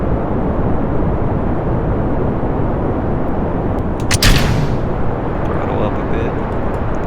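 Kerbal Space Program rocket engine thrust roars as a dense, steady rumble throughout, with a brief sharper burst near the middle marking stage separation.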